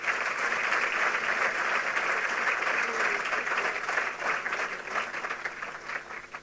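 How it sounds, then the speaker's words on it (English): An event audience gives a sustained round of applause for national athletes competing in Paris, dense clapping throughout that thins out near the end. "I'd like to invite you to give a round of applause to all our athletes representing us in Paris"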